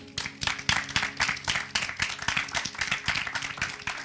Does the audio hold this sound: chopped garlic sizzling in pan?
no